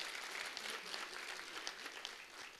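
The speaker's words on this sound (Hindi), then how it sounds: "तो मेरे जो जितने भी छात्र हैं उनके लिए जरा जोरदार तालियां हो" Sustained applause from an audience at a government PG college alumni meet in Uttarkashi, even and continuous, heard from a moderate distance.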